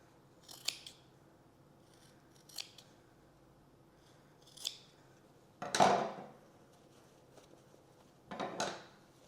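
Crisp scissor snips and scrapes come at intervals of about two seconds, with one louder rustling push of scissors on trouser fabric midway, close by, in a quiet room.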